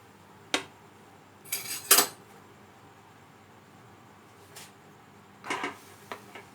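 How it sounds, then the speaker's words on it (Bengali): Grated pineapple going into a dry pan for chutney, heard as a few sharp clinks and scrapes of a utensil against the pan, scattered and fairly close in an otherwise quiet kitchen. "প্যানের মধ্যে আমি এবার আনারসটা দিয়ে দেবো।"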